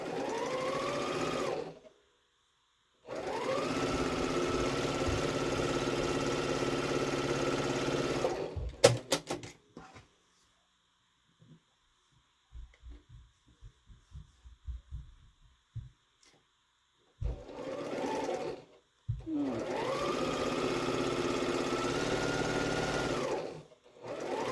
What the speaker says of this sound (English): I'm going to go ahead and sew both of these.